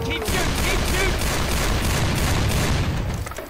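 Sustained, dense gunfire in Left 4 Dead, rapid overlapping shots forming a loud continuous burst that tapers off at the end, with voices faintly underneath.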